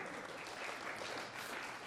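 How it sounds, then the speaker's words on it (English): Applause from a school audience at an election hustings, a steady wash of many hands clapping, moderately distant and even throughout, with no voices on top. "Let me not stifle the claps."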